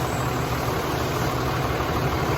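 Dodge truck with a 48RE automatic transmission, engine running steadily with a continuous low rumble and hum, close and constant, no talking.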